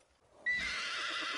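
A horse in Ghost of Tsushima lets out a loud, bright whinny that starts abruptly and holds for about a second, with faint hoof movement beneath.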